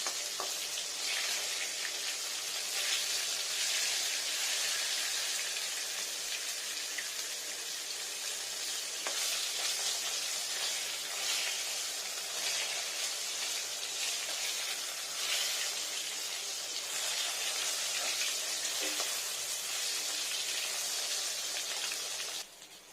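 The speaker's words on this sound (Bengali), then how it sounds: "দেখুন ফ্রেন্ডস কি সুন্দর হয়ে গেছে মুচমুচে মাছ ভাজা" Katla fish pieces fry in hot oil with a loud, steady, crackling sizzle that runs throughout, fading out only at the very end.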